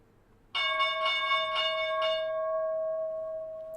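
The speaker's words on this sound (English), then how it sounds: "Opening bell." A bell sounds the trading opening, struck several times in quick succession, loud and close, then ringing out with a long sustained tone that slowly fades, alone without talk.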